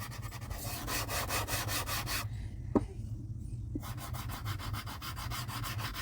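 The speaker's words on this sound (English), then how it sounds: "you're just rubbing these against the cardstock" Soft pastel chalks rub against cardstock in a close, steady scratchy swishing with a rhythmic back-and-forth texture, briefly pausing midway before resuming.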